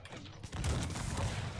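Musket volleys from mounted red cavalry in the strategy game Cossacks 3 crackle in a burst of overlapping shots, starting thin and swelling into a denser, louder rattle of gunfire after the first half second.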